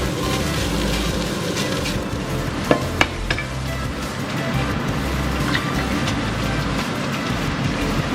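Hoisin sauce gets stirred into a hot pan, giving a steady loud sizzle with scraping utensil strokes and a couple of sharp clinks throughout.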